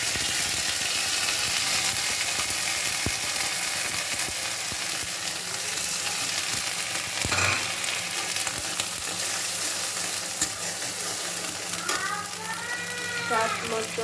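Ginger-cumin paste sizzling in hot oil while cooking mustard hilsa fish, a continuous dense frying hiss throughout, with faint background voices and a brief clink partway.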